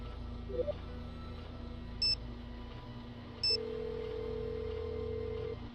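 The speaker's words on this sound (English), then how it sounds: "Time to phone Alex again." A phone is dialed in the Nancy Drew: Sea of Darkness game: two short bright beeps a second or so apart, then a steady low tone that holds for a couple of seconds, all over a quiet ambient hum.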